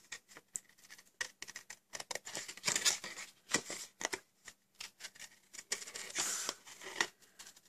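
Scissors fussy cutting around a paper shape for a Stampin' Up! craft project, close crisp snips and rustling paper in irregular short bursts, no talking.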